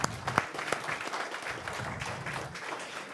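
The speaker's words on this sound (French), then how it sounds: "Applaudissez-vous" Conference audience applauding in a hall, a dense wash of many hands clapping at steady loudness with a couple of sharper claps near the start, continuing without pause for about three seconds.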